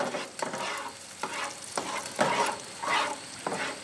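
Garlic sizzling in a GSI Bugaboo camping cook set pan, a soft steady fry broken by about seven scraping stirs at a regular pace, close and fairly quiet.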